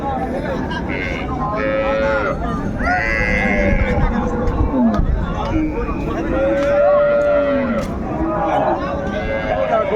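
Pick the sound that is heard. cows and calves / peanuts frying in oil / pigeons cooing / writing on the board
cows and calves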